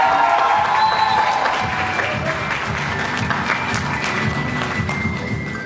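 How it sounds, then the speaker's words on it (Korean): An audience applauds at a company year-end convention, dense continuous clapping filling a large hall, loud at the start and easing slightly while holding steady to the end. "큰 박수 부탁드립니다."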